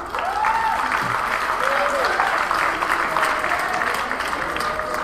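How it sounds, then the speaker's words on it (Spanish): An audience at a Mexican gastronomy forum breaks into sustained applause, a dense steady roar of clapping that fills the room, with a few voices calling out over it. "Un aplauso, por favor."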